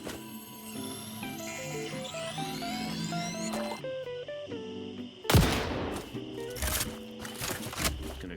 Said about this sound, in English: Gonna shoot bullets into the ground